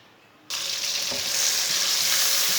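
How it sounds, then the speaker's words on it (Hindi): Chopped onion sizzling in a cup of hot oil for Punjabi-style aloo gobi, a loud steady hiss that bursts in as the onion hits the pan and holds alone throughout. "प्याज को हल्का सा ब्राउन कर लेंगे"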